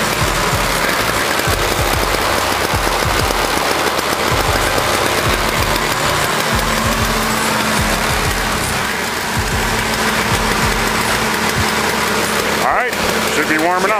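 A Toro CCR 2450 snowblower engine runs steadily while warming up outdoors in deep snow, a loud continuous drone with a slight sputtering texture throughout.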